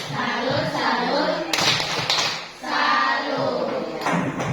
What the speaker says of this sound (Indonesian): Kasih tepuk salut buat dua orang teman, jelas.